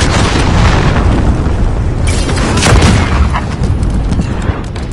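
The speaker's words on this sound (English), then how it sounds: "Allied cruise missile on the way." A massive cruise missile explosion in the Call of Duty video game roars loudly and continuously, with heavy rumbling booms and crackling debris rolling on for several seconds.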